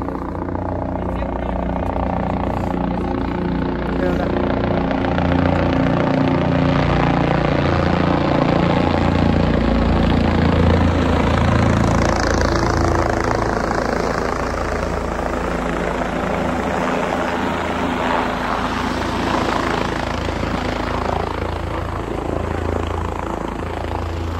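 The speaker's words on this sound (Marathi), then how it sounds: "आणि आता हेलिकॉप्टर वरती येते." A helicopter lifts off with a steady, loud, broadband engine and rotor roar that stays constant and close throughout, with faint voices in the background.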